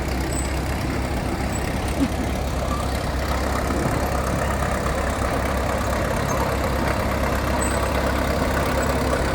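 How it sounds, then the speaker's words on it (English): A 1940 Farmall Model H tractor chugs steadily in a parade at a North Dakota farm show, a continuous low engine rumble with broad outdoor noise and no clear break. "1940 Farmall Model H, owned by Jesse Slaybaugh, driven by Lila Slaybaugh."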